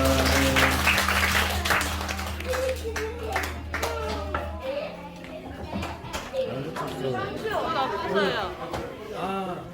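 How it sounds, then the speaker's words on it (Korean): A church congregation at Sunday worship claps, with dense applause at first that thins out as chatter and voices, including children's, take over, over a fading sustained organ-like tone. "우리 하나님께 영광의 박수 드리겠습니다"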